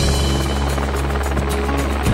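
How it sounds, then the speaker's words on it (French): A helicopter flies over vineyards in Corsica, its rotor thumping in a loud, close, rapid rhythm over a steady engine drone. "Il m'arrive de faire des visites de vignobles en hélicoptère."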